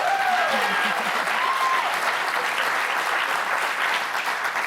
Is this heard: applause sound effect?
yes